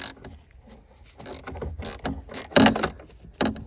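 Ratchet wrench loosening a 13 mm bolt on the battery clamp of a 2015 BMW F31 3 Series, a run of close, quick clicking pawl ticks with a couple of louder clacks, no talk.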